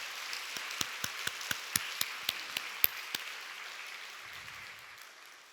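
Scattered applause from a church congregation during a Sunday service, fading out as a low murmur remains, with a few distinct sharp claps standing out over the softer patter.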